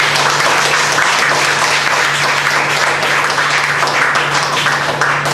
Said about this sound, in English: And let's give a round of applause to Balali.